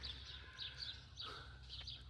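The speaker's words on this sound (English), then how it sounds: "all the birds out here. Sounds like someone has some chickens." Birds chirp in a spacious residential backyard, with repeated high, thin calls over a low steady hum, and a chicken clucks faintly in the background.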